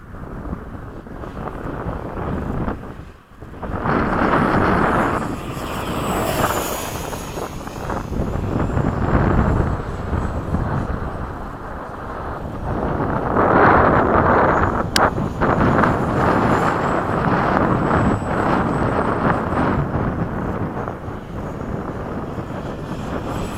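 An FMS 70mm electric ducted-fan F/A-18 RC model jet flies in breezy conditions, its steady whooshing fan roar rising and falling continuously as it makes passes, with heavy wind buffeting the microphone throughout.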